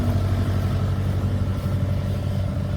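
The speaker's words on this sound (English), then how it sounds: "That tractor likes to coast backwards a little bit as it's sitting there." A tractor engine idles at rest, a steady, close, low rumble that holds even throughout with no voices over it.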